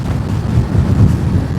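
Strong headwind buffets the microphone of a 500cc motorcycle on the move, a low, gusty roar that rises and falls over a brief stretch.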